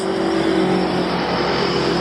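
A car rushes past on a road near a roadside walk, a loud, close engine drone and tire roar that hold steady at full strength for the whole brief moment.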